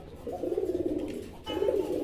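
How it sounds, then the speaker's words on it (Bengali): A fancy mukhi pigeon coos close by in two low, throaty, rolling bursts separated by a short pause, with no other sound over it. "খুব কম দেখবেন এই কালারের মুখী কবুতর"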